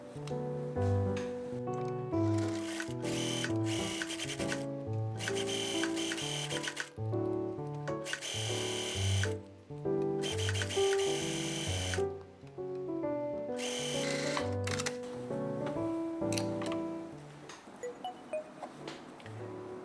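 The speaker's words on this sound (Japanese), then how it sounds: "ポケット周りにロックミシンをかけます。" An overlock sewing machine stitches around a skirt pocket in long steady bursts separated by short pauses, a rapid mechanical whirring that stays close and loud throughout.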